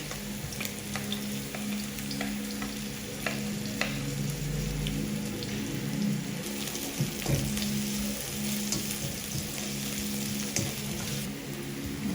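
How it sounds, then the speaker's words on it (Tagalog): Onion, garlic and ginger sautéing in a little oil for pakbet, a steady close sizzle and crackle with occasional stirring scrapes, continuous throughout with no talking. "Gigisa natin itong mabuti."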